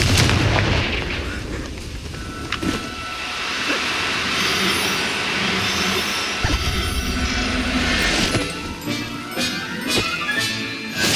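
Loud, dense Confringo blasting-spell explosions from the Hogwarts Legacy video game, a continuous barrage of booming bursts and crackling impacts layered over each other, with sharp transient hits recurring throughout.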